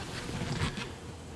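Honeybees from bee packages clustering together outdoors make a soft, steady hum, low and fairly faint, with a slight swell midway.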